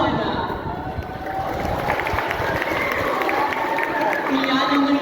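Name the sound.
audience applause and cheering at pageant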